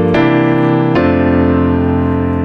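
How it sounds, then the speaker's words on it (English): A keyboard plays a two-five chord progression resolving to F: one full sustained chord, then a second chord struck just before the one-second mark and left ringing, loud and close with no talking. "we're gonna switch keys and we're gonna play a 2,"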